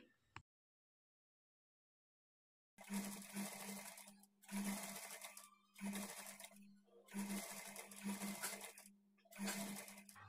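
A sewing machine stitches piping cloth onto a blouse in several close, loud bursts of rapid whirring, separated by short pauses, after a stretch of near silence.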